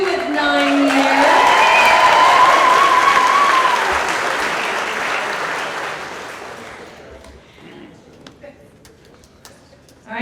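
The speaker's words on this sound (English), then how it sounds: "give him some applause" An office audience applauds at a company celebration, a long, dense burst of clapping that swells, then thins and tapers off over about seven seconds, with some voices mixed in.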